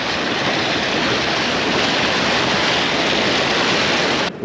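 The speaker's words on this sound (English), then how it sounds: "I get here and they're opening the floodgates. It's a daunting sound, guys." River water rushes through opened floodgates in a steady, loud, unbroken roar that fills the whole clip, with no voices.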